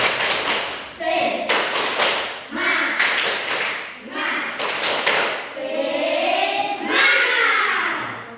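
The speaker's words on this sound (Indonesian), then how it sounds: "Oke, kita tepuk semangat dulu." A primary school class performs the rhythmic 'tepuk semangat' clapping chant, with bursts of patterned clapping alternating with group chanting voices, close and lively.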